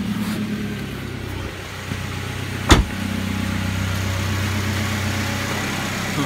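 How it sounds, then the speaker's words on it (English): A Suzuki SX4 with its exhaust removed idles nearby, a steady, rough low engine drone, broken once by a short sharp click or knock before the idle carries on unchanged. "I'll start it up and I'll show you what I think is happening"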